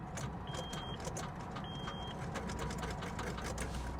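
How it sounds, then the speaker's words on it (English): A car's starter relay clicks in a rapid, steady mechanical chatter while a jump pack reading 12.3 volts is attached, and the engine never cranks. The clicking is close and continuous over a hiss of background noise. "I can hear like the starter relay."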